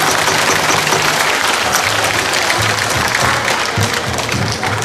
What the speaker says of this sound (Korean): 박수를 치려면 치고 말라면 치고 알아서 쳐주시면